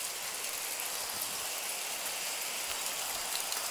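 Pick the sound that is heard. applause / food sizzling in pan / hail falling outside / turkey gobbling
hail falling outside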